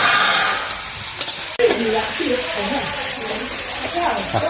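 Meat sizzles and crackles steadily in a hot pan, close by, while someone talks over the frying; chicken being cooked for Thai larb and chicken soup.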